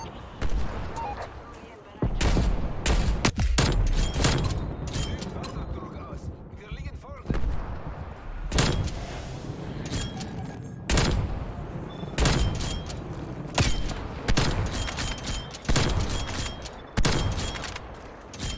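Heavy gunfire in Call of Duty Cold War, repeated loud rifle bursts and single shots in clusters with short gaps, booming close to the player, while voices talk between the shots.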